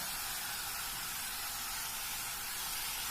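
Onions sautéing with a half teaspoon of salt in a pan for pepper chicken curry give a steady, close, even sizzle that hisses without a break from start to end.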